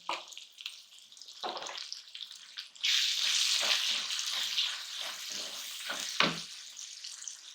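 Turmeric and red chilli powder crackle and sizzle in a hot pan, a steady hiss rising partway through with a few clinks of a spoon stirring.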